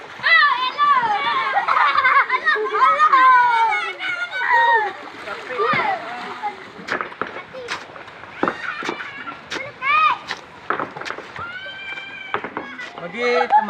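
Children shout, squeal and chatter at a swimming pool, with water splashes scattered through the steady, lively crowd noise.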